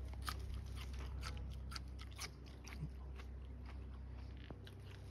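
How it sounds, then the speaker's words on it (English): Close, crisp crunching as a raw trout lily bulb is bitten and chewed, a quick irregular series of sharp crackly crunches in a quiet outdoor setting. "Extremely crunchy, I don't know if you can hear."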